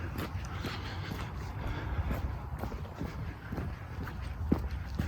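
Footsteps crunch and scuff steadily over a marshy but rocky path, a regular walking rhythm with occasional splashy, sharper steps, close by and without talk.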